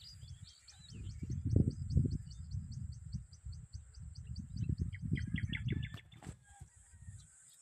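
Wild birds call near a rice paddy: rapid repeated chirping and honk-like calls ring out fairly close over a steady low rumble, with a busier burst of calls toward the end.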